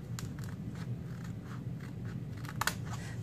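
Small scissors cutting around a gold embossed paper diamond shape, giving soft crunching snips spaced through the moment, close and fairly quiet with one sharper crunch near the end.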